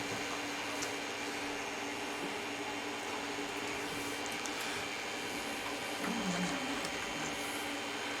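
The motor of a Creality CR-10S Pro 3D printer raises the bed axis with a faint, steady mechanical drone over constant background hum, with no talk.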